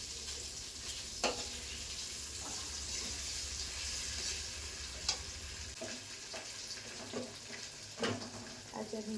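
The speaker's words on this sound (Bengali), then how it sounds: "বেশ লাল লাল করে ভেজে নেব। চলো আলুগুলো ভেজে নিয়ে তারপর তোমাদের সাথে আবার দেখা হচ্ছে।" Potatoes frying in a home kitchen pan, a continuous close sizzle broken by occasional scraping and clinking as they are stirred, with a low background hum fading partway through and no talk.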